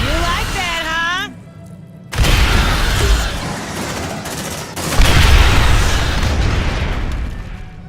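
A grenade explosion and rapid gunfire in the Aliens: Dark Descent video game, with loud booms and bursts arriving in two heavy waves after a short synthetic sweep and some shouted voices.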